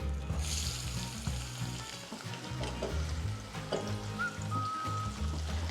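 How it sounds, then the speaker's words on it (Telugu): Onions and asafoetida sizzling in hot oil for a bitter gourd curry, a loud continuous frying crackle with low rumbling and occasional stirring knocks. "ఇప్పుడు ఇంగువ వేసుకుందాము అలాగే కొద్దిగా ఉల్లిపాయలు"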